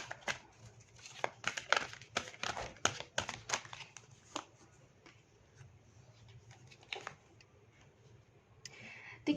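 Cards are drawn and shuffled from a deck for a reading: a run of quick papery snaps and slides, close and crisp, thinning out to softer rustles toward the end.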